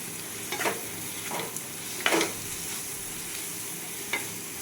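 Semolina pulao with vegetables is stirred in a pan after water goes in, a low steady simmer-sizzle broken by a few sharp scraping strokes of the spoon, one louder than the rest, no speech.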